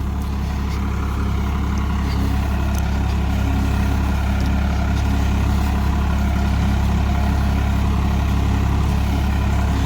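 A Farmtrac 45 Powermaxx tractor engine drones loudly and steadily out in a field, a continuous deep diesel rumble with no pauses and no voices.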